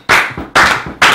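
Three sharp, close hand claps in an even rhythm, each ringing out briefly before the next, with no voices.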